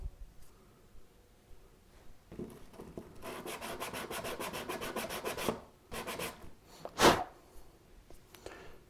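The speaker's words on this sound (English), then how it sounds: "Of course, it's loading the sandpaper up pretty well." Hand sanding a 3D printed knob for a 1934 Grunow 501 antique tube radio, quick rhythmic rubbing strokes of sandpaper close up, a soft scratchy burst in the middle and a sharper scrape near the end.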